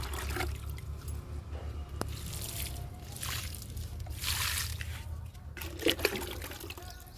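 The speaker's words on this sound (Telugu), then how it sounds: "ఈ వాటర్ క్యాన్లో ఉన్న మొక్కలన్నిటికి ఇచ్చేస్తానండి" Liquid pours from a watering can onto potted plants, a steady close splashing trickle with surges and gurgles, over a low background hum.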